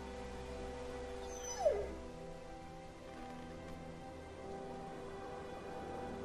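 A dog in The Walking Dead Season 2 video game lets out a single short, whimpering squeal. It is moderately close and rises briefly above a steady, rain-like background hiss, with no talking.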